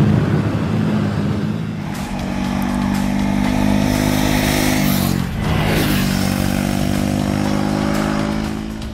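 Engine of a Triumph Speed 400 motorcycle while riding, a steady loud hum with a brief dip in revs midway before settling back to an even drone after a gear change.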